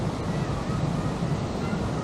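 Aira Force waterfall in Cumbria pours heavily, giving a steady, broadband roar of rushing water that stays loud and unbroken throughout, with no voices.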